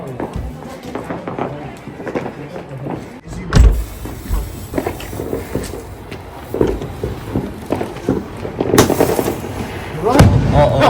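Diwali firecrackers pop and burst in sharp, irregular bangs amid outdoor crowd chatter and commotion in the UK, some blasts close and loud.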